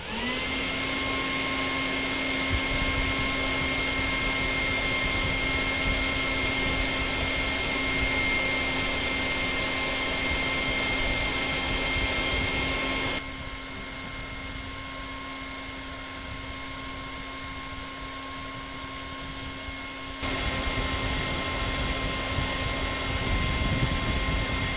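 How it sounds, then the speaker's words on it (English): Hairdryer blowing hot air to heat a box for calibrating a temperature sensor, a steady loud whirring roar with a constant hum that drops to a quieter, lower blow for about seven seconds before returning to full strength; no speech. "Once it stabilizes, I'm going to switch off the hairdryer"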